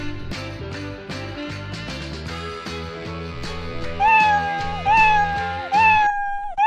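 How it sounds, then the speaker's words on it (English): Light music plays, then a cat meows three times in a row, clear and close, the drawn-out meows rising above the tune. "drag the play sound meow block into the code area"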